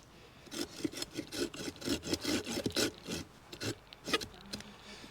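A small hand saw cuts through wood outdoors at a campsite in Glencoe, giving a run of steady rasping back-and-forth strokes close up, then a few slower, scattered strokes at the end, with no talking.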